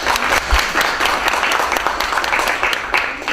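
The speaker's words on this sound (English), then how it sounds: "The applause is totally justified" Conference audience applauding in a hall at the 2014 LibreOffice conference in Bern, a steady wash of many hands clapping that holds at an even level throughout.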